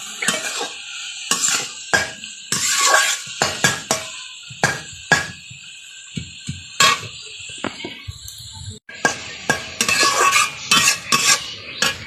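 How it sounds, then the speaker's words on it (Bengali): Leafy greens stir-fried over a low fire fed with jute sticks, giving repeated clanking and scraping of a metal spatula against the pan over a faint sizzle, close and loud with brief pauses. "শাকটা হালকা জালে ভাজছি।"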